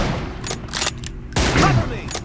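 Gunfire from an M24 sniper rifle in a video game 1v1 room match, a few sharp broadband shots with one loud blast near the middle, mixed with busy game effects and some speech-like sound.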